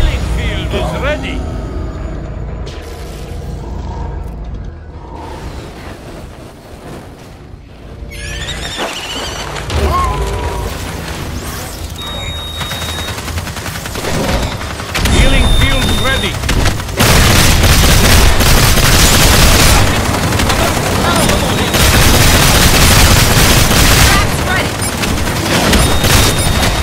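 Bombs going off in the video game Evolve, a dense barrage of loud booming blasts building in intensity over a busy battle mix, with a voice calling out over the explosions.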